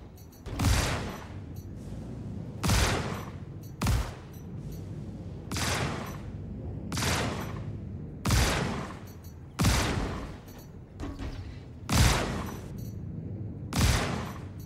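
Gunfire in the space shooter Star Citizen crashes out in loud, regular bursts roughly every one to one and a half seconds, each a sharp crack that fades into a short rumbling tail. No voices are heard.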